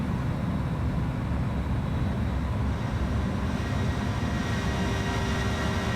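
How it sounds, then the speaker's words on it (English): Loud, steady roar of an Airbus A320 airliner's engines in the X-Plane 11 flight simulator, a continuous broadband drone that holds unbroken for several seconds. "Plane's loud. So I'll get rid of the plane."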